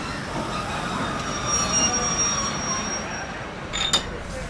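A nostalgic passenger train crosses Sri Lanka, with a steady rumble of wheels on rails beneath thin high squeals of the wheels, and a short sharp metallic screech toward the end.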